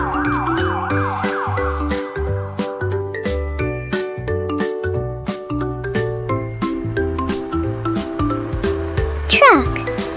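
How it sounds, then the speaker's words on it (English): A police car siren wails in a short rising and falling sweep at the start and again near the end, set against a bouncy children's music backing track. "Police car."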